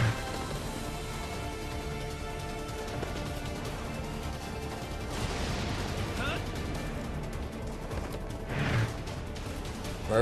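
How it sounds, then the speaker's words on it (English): Gunfire aimed at a container in the Daemon X Machina video game, heavy booming bursts and blasts rolling continuously through a loud, dense battle din. "They're back again firing at the container."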